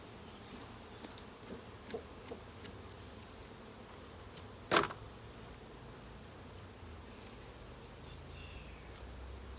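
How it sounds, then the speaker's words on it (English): Honey bees buzz at an open 14x12 nucleus hive during a spring inspection, a faint continuous hum with a few soft knocks and one sharper clack of hive parts. "Let's get the bees off."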